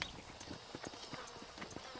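Horse hooves clip-clop in a quick, even trot in Red Dead Redemption, a run of close, distinct hoofbeats that continues steadily throughout.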